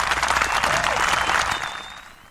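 Applause sound effect played during a sports betting show, a short burst of crowd clapping that starts full and tapers off quickly.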